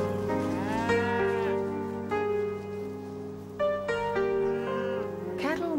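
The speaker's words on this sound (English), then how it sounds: "Cattle mistrust anything unusual." Cattle in an open, treeless setting low and moo in long, drawn-out calls that overlap one after another, loud and close over a steady low rumble.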